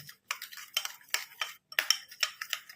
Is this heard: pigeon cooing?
no